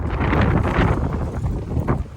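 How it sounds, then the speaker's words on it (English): Gusty storm wind beside a moored narrowboat buffets the microphone in rumbling surges that rise and ease over a couple of seconds. "it's pretty windy out here still"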